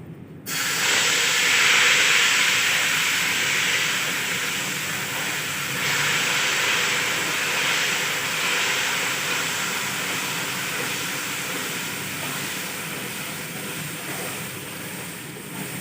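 Sugar syrup poured slowly into hot roasted semolina for halwa sets off a sudden loud steaming sizzle that holds as a steady broad hiss for about fifteen seconds, easing only slightly over time.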